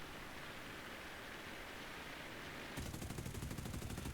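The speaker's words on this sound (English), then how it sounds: "Wasting some ammo laying bullets out in front of him, hoping he'll fly into it." Aircraft guns fire in a video game dogfight, a steady rushing roar of rapid gunfire that suddenly grows louder and harsher near the end, with no talking.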